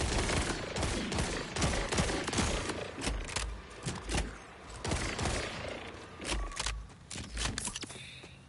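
Rapid SMG bursts in the shooter Borderlands 4, loud, close and continuous, with short gaps between volleys and game effects mixed in.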